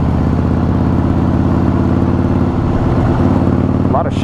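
A Harley-Davidson motorcycle engine idles loudly up close with a lumpy, uneven throb that holds steady throughout.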